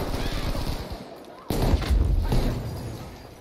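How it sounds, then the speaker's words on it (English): Gunfire in the Battlefield V video game with a Type 2a submachine gun firing into smoke, rapid bursts layered with heavy thumps and booms, loud and close, amid battle noise. "I'm just firing into the smoke now."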